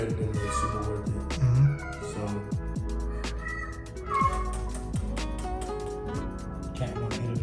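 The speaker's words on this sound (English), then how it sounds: "Cat want to interview too. So, she trying to talk to y'all." A cat meows a few times at close range inside a home in Brazil, with short, separate calls over a busy room background.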